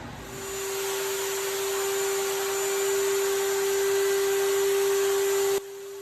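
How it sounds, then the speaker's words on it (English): A router table with a bearing-guided bit trims rosewood to a template: a loud, steady high-pitched motor whine held for several seconds, close up, cutting off abruptly near the end. "Now I'm going to take a router table in this particular bit which has a bearing on it."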